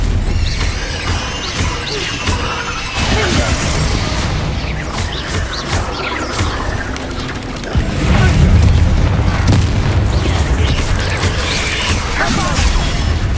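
Bombarda and Confringo explosion spells cast in Hogwarts Legacy: loud, continuous booming blasts and crashing impacts layered over rumbling game combat noise, growing heavier about two-thirds of the way through, with shouted voices mixed in.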